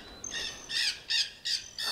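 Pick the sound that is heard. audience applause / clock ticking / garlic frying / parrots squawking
parrots squawking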